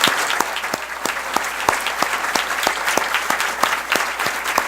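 An audience at a club forum claps in a lively, continuous round of applause, with sharp individual claps standing out against the dense clatter.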